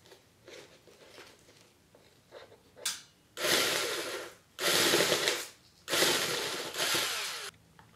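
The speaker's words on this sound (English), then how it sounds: "we need to just drill a hole here on the side to make the hose come out" A power drill whirs in three loud bursts, each about a second long, drilling a hole into the side of a cauldron, with quieter clicks and handling noise before them.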